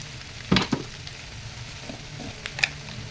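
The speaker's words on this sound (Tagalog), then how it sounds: "At habang ginigisa guys, maglagay na tayo ng kunting tuyo" Chicken sautéing in a pan as dried fish is added, with a soft steady sizzle under a few sharp clinks and stirring knocks.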